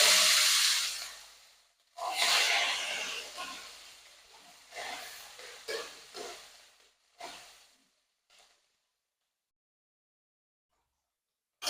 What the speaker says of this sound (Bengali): এবার এগুলো হালকা করে ভেজে তুলে নেবো